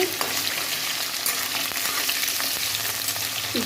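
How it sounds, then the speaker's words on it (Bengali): Potatoes frying in oil with bay leaf and cumin, a dense, even crackling sizzle held close and steady, with faint scrapes and no voices. "আলুগুলো ভেজে নিচ্ছি"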